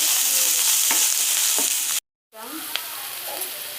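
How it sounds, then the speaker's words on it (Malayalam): Chopped onions sauté with salt in a pan for cutlets, making a loud, steady sizzle with occasional stirring scrapes. A short silence falls midway before the frying sound resumes. "സവാള ചെറുതാക്കി നുറുക്കിയത് അതിലേക്ക് ഇട്ട് കൊടുക്കുക. എന്നിട്ട് നല്ലപോലെ വഴറ്റിയെടുക്കുക."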